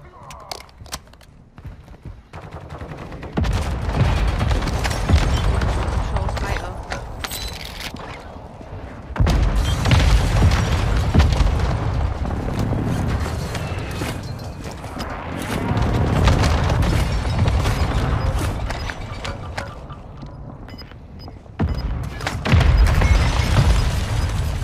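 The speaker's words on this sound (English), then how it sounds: "Hostile airstrike in the area." Repeated heavy booms from an airstrike in Call of Duty Warzone 2 roll through the match in several loud bursts, with low rumbling tails and scattered crackling under radio chatter and a player's voice.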